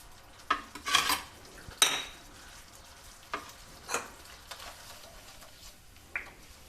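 Momo filling with salt sautés in a pan, a soft steady sizzle broken by several sharp scrapes and clatters of a spoon on the pan, close and alone.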